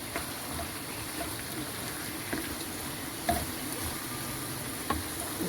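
Vegetable and chicken sauce for rice frying and sizzling in a pan while being stirred, a steady close hiss with occasional scrapes and knocks of the spoon, no talking.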